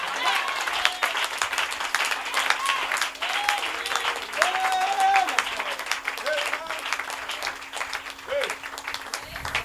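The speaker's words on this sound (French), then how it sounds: "Donnez-lui une main d'acclamation." A church congregation claps together at a French-language deliverance service, sustained dense applause over nearly ten seconds with a steady hum and scattered voices calling out within it.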